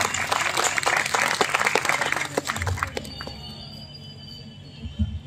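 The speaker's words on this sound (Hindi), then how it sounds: "एक बार जोरदार तालियां बजाएं हम सर के लिए" Audience applause at a state memorial ceremony in Bihiya for a former chief minister, a dense burst of clapping for the first three seconds that thins and fades into a quieter room with scattered claps.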